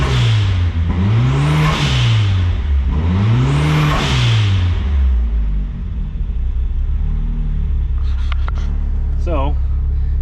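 A 2.0L turbocharged Pontiac Fiero engine idles and revs with its alternator disconnected, two loud rising-and-falling revs followed by a steady running rumble, close up, with brief voice sounds near the end.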